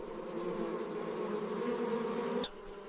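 Bees buzz in a steady, close drone that runs for most of the moment, then drops off suddenly near the end as the insects move away, leaving quieter background hum.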